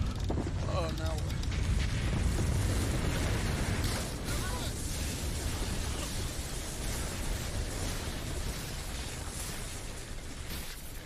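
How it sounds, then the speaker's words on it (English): A heavy explosion in a video game thunders with a deep sustained rumble, loud and close, then slowly dies away into a long roaring, debris-filled tail. "the explosion or whatever it was might have weakened the structure of the building"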